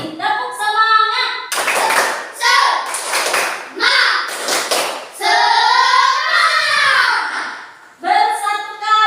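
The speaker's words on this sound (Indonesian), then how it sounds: "Ayo sekali lagi. Tepuk semangat." Fourth-grade schoolchildren in a classroom perform the rhythmic 'tepuk semangat' cheer, loud bursts of group clapping alternating with the kids' chanted lines, clapping and voices trading back and forth close by.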